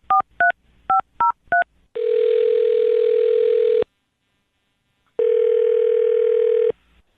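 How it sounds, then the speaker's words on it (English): A touch-tone phone dials a number during a morning radio show call: six quick beeps, then two long, loud ringing tones with a pause between them. "I'll dial her phone number right now and get her on the phone then"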